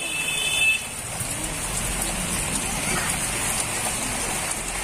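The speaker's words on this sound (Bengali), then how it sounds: "আর বৃষ্টি এখন বেশ ভালোই নামিয়েছে" Heavy rain falls steadily outdoors during a home puja, a constant broadband hiss with faint distant traffic beneath.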